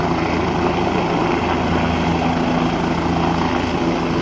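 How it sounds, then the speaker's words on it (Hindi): Helicopter at the Kedarnath helipad in Kedarghati, heard as a loud, steady engine and rotor drone that runs unbroken through the whole stretch with no voices. "ये हेलीकॉप्टर सवार भी कर सकते हैं आप।"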